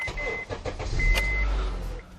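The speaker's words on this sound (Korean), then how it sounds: "실내 안에 탑승을 해서 시동을 한번 걸어 보도록 하겠습니다" A used Honda Accord sedan started from inside the cabin: a short cranking whir with a faint chime, then a steady low idle that stays quiet, with no talk.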